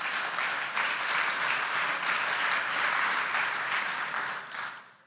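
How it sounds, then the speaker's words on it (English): Audience applause for startup founders before a panel discussion, a steady wash of many hands clapping throughout, fairly soft and distant, fading out at the end. "please give the panelists a warm applause"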